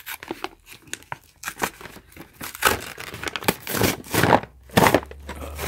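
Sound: tearing open sealed packaging of an LED sensor light bar

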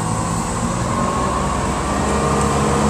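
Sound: 2005 Bayliner 2655 boat engine at speed

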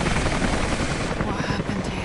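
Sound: helicopter in video game Rise of the Tomb Raider

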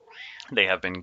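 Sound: cat meowing

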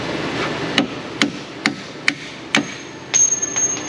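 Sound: hammering on a bolt

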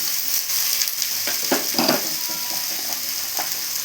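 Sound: beans being sautéed in a pan for avial

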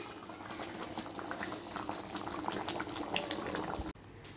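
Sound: water boiling for cooking rice

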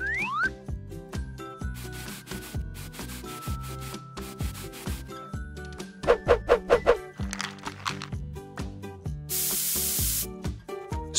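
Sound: spray paint being sprayed on a doll

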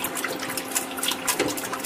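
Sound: rinsing pig intestines under running water

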